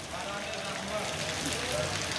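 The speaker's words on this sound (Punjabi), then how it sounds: "ਇੱਥੇ ਲਹਿੰਦੇ ਪੰਜਾਬ ਦੇ ਮਹੱਲੇ ਅਬਦੁੱਲਾ ਕਲੋਨੀ ਮੀਂਹ ਪਈ ਜਾਂਦਾ" Steady rain falls on a residential street in a Faisalabad neighbourhood, a dense, even hiss of drops spattering on surfaces that fills the whole stretch at a loud, constant level.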